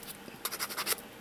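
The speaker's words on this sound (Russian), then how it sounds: "Зашкуриваем." Sandpaper rubs against a plastic toothbrush handle that is being shaped into a crochet hook grip, making a run of short, quiet, close scratchy strokes with nothing else heard.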